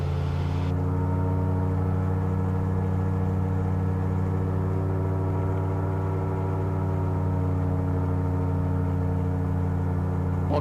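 The engine of a SeaRey amphibious aircraft in flight holds a steady, loud droning hum from start to finish, close and constant, with no voices over it.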